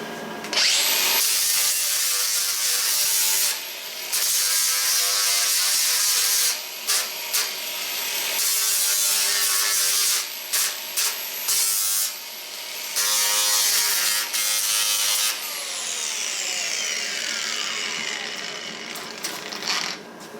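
Welding on a steel fireplace and BBQ build, loud continuous crackling bursts that start and stop in several long runs at close range, with no voice.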